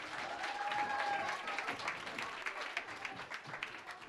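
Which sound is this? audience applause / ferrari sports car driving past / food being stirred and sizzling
audience applause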